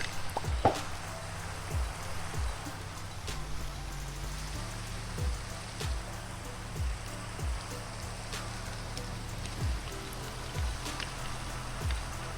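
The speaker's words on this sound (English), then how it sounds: "Found it just really peaceful fishing in the rain, in the dark, nice and quiet out" Steady rain patters down at night in the video game Minecraft, a soft, even hiss with occasional faint drips and low thuds beneath, calm and without voices.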